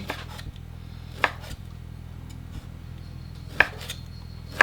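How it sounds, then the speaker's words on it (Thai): A knife slices Chinese sausage on a cutting board, giving a few sharp, close taps spaced about a second apart over a quiet steady hum, with no talking. "โอเคครับเราก็มาหั่นกุนเชียงก่อนนะครับ"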